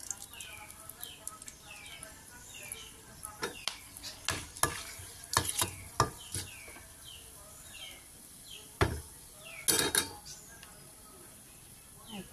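Whole spices such as bay leaf, cardamom, cinnamon, peppercorns and cloves sizzling in hot oil in a wok for a roast, with a soft steady fry broken by sharp clinks and scrapes of a stirring spoon against the metal.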